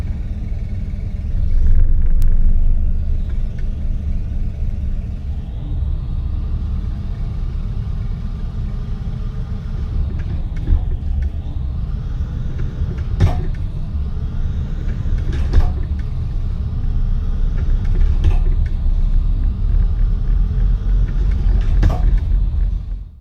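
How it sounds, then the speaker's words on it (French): A truck engine in gear is accelerating with a deep, steady rumble that swells and sustains, punctuated by a few sharp clicks and knocks, close and loud, with no talk. "On passe en vitesse et on enfonce l'accélérateur."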